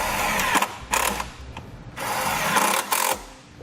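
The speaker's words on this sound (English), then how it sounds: "Now we use our provided self-tapping screws to secure it to the vehicle." A power driver runs self-tapping screws into the metal body of a car while fitting a battery charge line kit for towing, with several short whining bursts of the motor close by and brief pauses between them.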